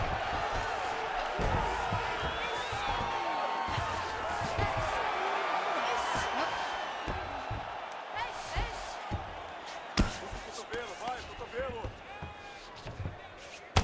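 Arena crowd in the UFC 5 video game, a steady murmuring roar that swells with each landed strike, with louder bursts of reaction near the end under ongoing commentary.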